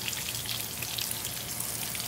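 Unicornfish pieces fry in hot oil with a dense, steady sizzle and crackle, close and constant throughout with no talking.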